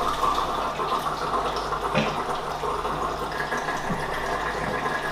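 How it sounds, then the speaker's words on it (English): A hose purging at a coral aquarium facility, with water running steadily and splashing in a continuous rushing wash, no talking. "so I'm just letting my hose purge out."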